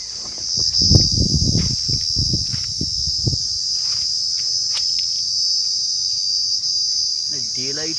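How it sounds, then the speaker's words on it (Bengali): Crickets chirp in daylight in a loud, steady high-pitched trill that persists throughout, while a few brief knocks and rustles sound nearby early on. "ডে লাইট এরকম ঝিঝির ডাক আগে কখনো শুনেছি বলে মনে পড়ছে না"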